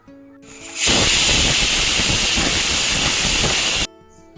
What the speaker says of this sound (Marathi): चार शिट्ट्या काढून घेते.